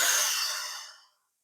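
A single deep, slow exhale through the mouth during a relaxation ritual, close and breathy, starting full and tapering off into silence after about a second.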